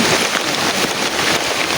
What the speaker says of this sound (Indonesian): kenapa di sini cuma ada hujan?